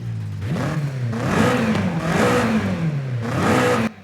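A stock BMW M8 Competition Coupe in Forza Horizon 5 revs loudly and close up for about four seconds, its engine note climbing and falling in several surges before cutting off sharply.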